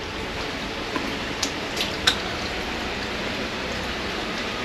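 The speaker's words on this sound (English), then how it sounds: "there's a lot of water in here. I can just hear it flowing." Water flows steadily inside an old coal mine tunnel, a faint continuous wash with a few soft drips and knocks echoing nearby.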